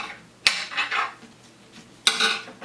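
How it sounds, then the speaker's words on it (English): A knife chops chicken of the woods mushroom into small chunks on a board, two sharp knocks of the blade about a second and a half apart, each followed by softer rustling scrapes, close and clear. "So we'll just cut those into small chunks."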